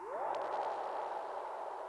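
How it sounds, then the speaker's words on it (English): A spacey synth sweep triggered from an MPC One drum machine pad rises and then hangs as a washy, echoing tone, with faint repeating delay taps fading above it. "I've got that space sound to kind of delineate the two halves of my 8 bars"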